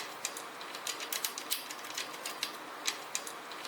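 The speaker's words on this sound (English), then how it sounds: "Unscrew the bolts before assembling the handle." Bolts are unscrewed on a Cursor Fitness CBE30 exercise bike during assembly, a run of quiet, irregular metallic clicks and ratcheting ticks close by over a soft background hiss.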